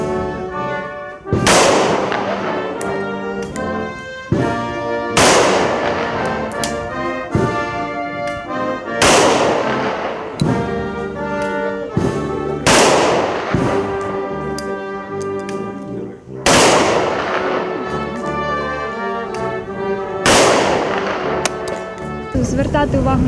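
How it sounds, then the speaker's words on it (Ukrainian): Ceremonial gunshots fired into the sky at a memorial event, heard as a series of loud, sharp volleys spaced every few seconds, each ringing out with a long echoing tail, over a background of voices. "завершили захід пострілами в небо."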